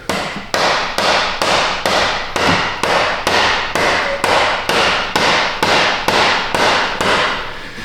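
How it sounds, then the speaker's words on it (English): A light hammer strikes a Ford EcoSport front CV axle in a steady run of about fifteen sharp metallic blows, each ringing briefly before the next, close up and loud with no voices. "that hammer is not very heavy."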